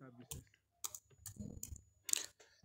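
Quiet clicks and taps of a computer keyboard and mouse on a Windows 10 PC, a few short scattered bursts heard under a man's speech.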